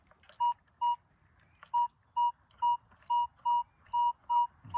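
A Minelab Equinox metal detector gives its target signal while detecting in Central Victoria, a series of about ten short, clear, evenly pitched beeps in an uneven rhythm over quiet background.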